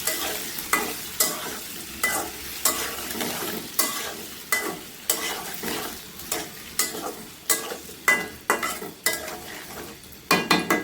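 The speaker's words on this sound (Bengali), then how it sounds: "তারপর এই কচুগুলিকে ভেজে নেব এই কচুগুলিকে আমরা নেড়ে নেড়ে" Taro pieces fry in a pan under a constant sizzle, with regular rhythmic scraping strokes of a spatula stirring them, about one every half second to second.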